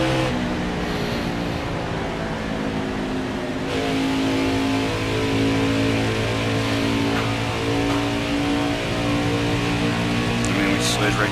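A race car engine in a racing sim at Homestead drones loudly and continuously, its pitch rising and shifting through gear changes as the car is driven at speed, with someone talking over it.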